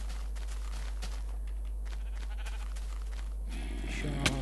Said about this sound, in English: Maybe a sheep.